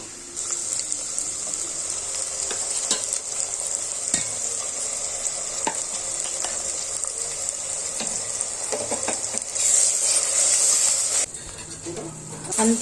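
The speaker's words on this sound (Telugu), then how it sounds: "ఒకసారి కలుపుకోవాలండి దీన్ని కొంచెం ఫ్రై కానివ్వాలండి" Ground spice paste with coriander powder for an aloo pudina gravy frying in oil in a pan, a steady broad sizzle with intermittent stirring scrapes throughout, briefly louder near the end, with no talk.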